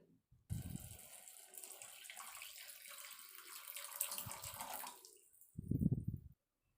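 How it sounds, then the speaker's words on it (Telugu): Milk pours steadily into a pot of pumpkin semiya dessert, a soft continuous liquid splash lasting several seconds, framed by short low thuds and handling noises before and after. "నెక్స్ట్ ఇప్పుడు మిల్క్ యాడ్ చేసేసుకుందాం"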